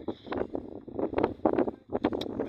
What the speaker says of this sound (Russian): Эй, ветер, ветер.